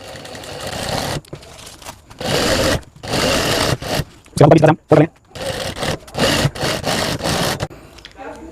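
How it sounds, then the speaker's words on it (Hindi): A sewing machine stitches fabric for a homemade backpack in short repeated runs with brief pauses, close and fairly loud. "उसके बाद हम इसे सिलाई करेंगे।"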